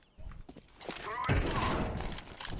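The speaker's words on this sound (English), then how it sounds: "I'm throwing a flashbang." A flashbang grenade thrown in Counter-Strike 2 bursts into a sharp, loud broadband crack partway through, amid busy gunfire-like game clatter and thuds.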